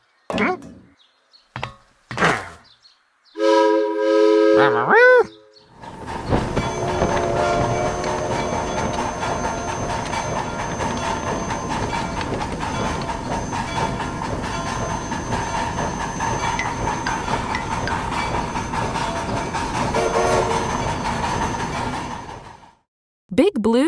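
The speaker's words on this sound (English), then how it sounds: "Big Blue's locomotive pulled 97 train cars." A locomotive pulls a long line of train cars past, a steady rumble and rhythmic clack of wheels on rail lasting many seconds, preceded by brief horn-like tones and knocks, fairly close and loud.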